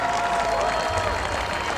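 A crowd cheers and applauds after a medieval armoured combat fight at a Battle of the Nations tournament, a dense, steady roar of clapping and voices throughout.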